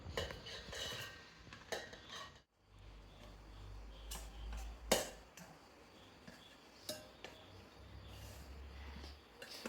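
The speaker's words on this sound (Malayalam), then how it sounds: "ഇത് നമുക്ക് മിക്സിയുടെ ജാറിലേക്ക് ഇട്ട് കൊടുക്കാം." Small ingredients drop into a mixer grinder jar with scattered clinks and light thuds, plus a low hum and occasional handling knocks.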